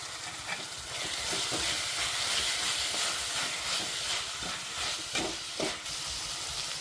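Soaked chana dal frying in a pan gives a steady crackling sizzle with hiss and steam, punctuated by occasional stirring knocks, close and moderately loud, with no voices.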